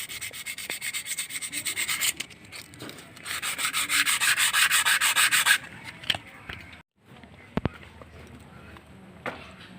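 A scratched motorcycle shock absorber inner tube being sanded by hand with sandpaper: close, loud rasping strokes in steady bursts, a brief pause, then lighter, scattered rubbing with a few knocks.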